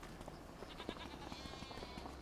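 Sheep and goats in the Farming Simulator 25 video game bleating faintly in a busy farmyard soundscape, several scattered calls under steady background noise.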